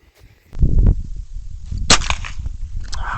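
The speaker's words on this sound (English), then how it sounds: "Still shot over him." A .22lr rifle fires Remington subsonic ammunition during a night fox and rabbit hunt, giving a single sharp, close crack in the middle of faint outdoor noise and a few soft handling sounds.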